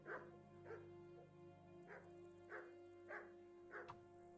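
A dog in the medieval role-playing game Kingdom Come: Deliverance barks in a steady series of six short, moderate woofs spaced about half a second apart over a low ambient hum.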